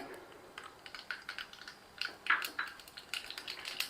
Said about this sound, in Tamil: கடுகு போட்டுக்கிறேன்